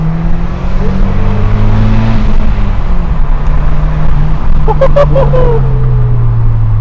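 Lamborghini Murcielago SV with a V12 engine driving, a loud sustained engine drone that shifts pitch as it accelerates, heard from inside or close by, with a brief extra burst of sound near the end.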